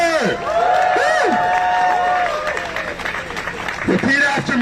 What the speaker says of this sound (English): let's have another round of applause for Jacob Miller